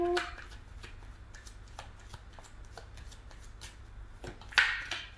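Tarot cards are shuffled close by in a run of quick, crisp riffling taps, ending in a sharper flurry as the deck is squared.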